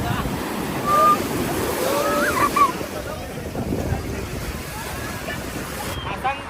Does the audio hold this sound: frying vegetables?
no